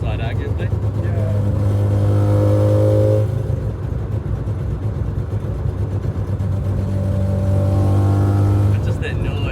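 A Mazda RX2 rotary engine idles close by, a steady lumpy burble with a firm low drone that holds level throughout, alone with no talk.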